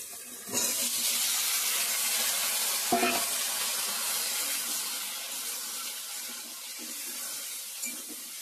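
Chopped vegetables hit hot oil tempered with onion, bay leaf, panch phoron, crushed ginger and tomato, setting off a loud, steady sizzle with a few stirring clatters partway through.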